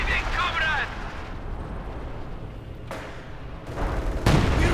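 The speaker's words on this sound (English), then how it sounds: "Nice hit there from the howitzer" Howitzer shells strike in the Company of Heroes 2 video game. Booming blasts and rumbling gunfire burst out under continuous commentator talk, with the two loudest impacts coming near the end.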